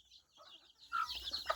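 Hens clucking and squabbling with each other on a farm, faint at first, then a louder burst of agitated clucks and squawks in the second half, fairly close.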